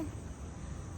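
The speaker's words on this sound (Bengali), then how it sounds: "ঝিঝি পোকার ডাক চারিদিকে শুধু" Crickets chirp at night as a steady, faint, continuous trill that fills the whole stretch without pause, with no voices over it.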